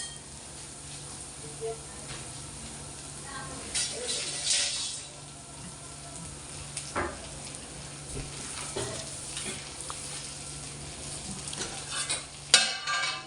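Bitter gourd stir-fries in a pan with a steady sizzle, while a spatula scrapes and stirs in irregular bursts, including a sharp clatter near the end.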